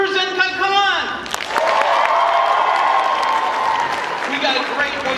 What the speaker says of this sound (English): Can I get a big round of applause for Zenkaikon?